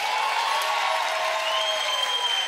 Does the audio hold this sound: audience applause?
yes